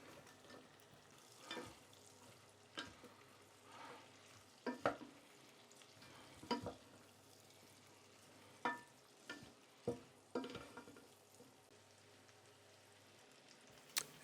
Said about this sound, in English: Get the slices of onion in the pan and then stir them well to totally coat the onions with the butter.